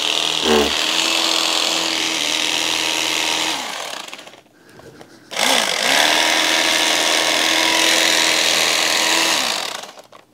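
A handheld power tool plunge-cuts through rock wool insulation around a receptacle: a loud, steady motor whine with a coarse cutting rasp, one brief pause in the middle, then a second long cutting pass.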